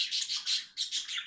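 Sparrows chirp in quick, bright bursts while drinking and bathing in a small bucket, a close, steady run of repeated tweets with no talking.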